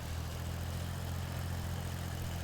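New-series tractor engine in Farming Simulator idling or running steadily, a low, heavy rumble with a constant buzzing tone, even and unbroken throughout with no talk.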